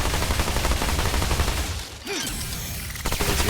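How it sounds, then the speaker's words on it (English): Rapid SMG fire during a boss fight in the video game Remnant 2, a loud sustained burst of automatic shots that briefly drops out midway before resuming, with a short electronic whine in the gap. "Quite like fighting bosses with this SMG."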